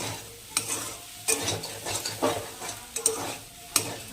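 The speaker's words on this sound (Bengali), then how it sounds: "পোস্তটা দিয়ে ভালো করে কষাতে হবে নইলে কাঁচা পোস্তর গন্ধ বেরোবে" Poppy seed paste stirred and fried in a wok, with a spatula scraping the pan in sharp, regular strokes about once a second over a low, steady sizzle, close and fairly loud.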